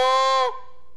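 A goose flute game call imitating geese gives one call: a bright, reedy high note that breaks abruptly into a lower, steadier honking tone, close and clear with no background.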